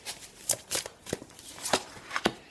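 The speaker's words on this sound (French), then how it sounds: "on va prendre une petite carte de message pour terminer ce tirage" Oracle message cards shuffled by hand, with quick papery flicks and taps in a loose irregular rhythm of about eight strikes, close and quiet, no voice.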